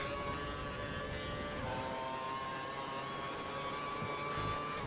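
A Formula One car engine held at full throttle in the F1 2012 racing game at the United States round, a steady high-pitched whine with tonal gear shifts sounding continuously and alone.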